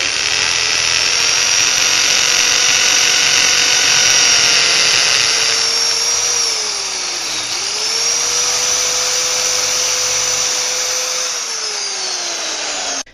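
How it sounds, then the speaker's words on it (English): A hammer drill bores a hole into masonry with a loud, steady, high-pitched whine. The tone dips briefly in the middle, then holds before the motor cuts off at the end. "I want to show you how easy it is to use a hammer drill"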